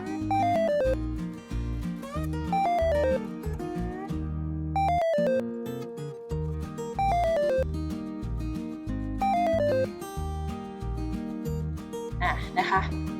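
A fire alert notification from a computer program plays as a loud electronic melody of ringing tones, repeating in cycles with one brief gap near the middle.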